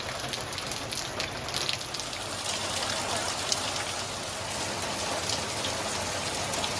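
Steady rain falls on surfaces outdoors in Thrissur, a continuous dense patter of drops with no pauses, moderately loud and unbroken by speech.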